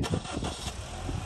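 A car slowly reversing a short distance at a lakeside spot on Olkhon Island, Baikal, its engine a steady close mid-pitched hum with a broad noisy texture, no voices over it.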